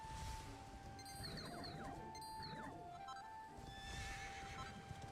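A horse in the Dragon Quest 11 video game whinnies in drawn-out neighs over steady clip-clopping hooves, set against a continuous game soundtrack.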